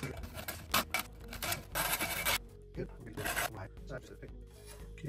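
Blade cutting through material during a light installation, rough rasping and scraping strokes in short irregular bursts, close and fairly quiet, alongside faint handling noise.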